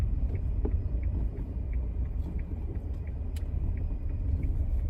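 A Nissan Magnite 1.0 turbo drives along with a low, continuous road rumble and engine drone heard from inside the cabin, steady and moderately quiet throughout.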